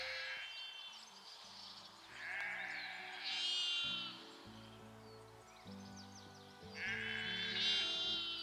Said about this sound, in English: Hang out with these sheep a little bit.